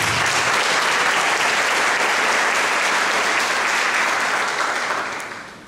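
A church congregation claps energetically, dense and sustained, then tapers off toward the end; no one speaks over it.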